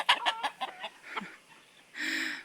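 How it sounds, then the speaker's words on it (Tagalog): A few short clucks from roosters close by, a quick series of calls followed by a brief louder squawk. "yung mga tandang."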